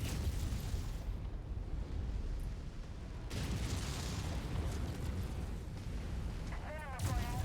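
Video game combat in which a vehicle is destroyed: heavy explosions and artillery-like booms rumble continuously, loud and close, with a radio-style voice briefly heard near the end.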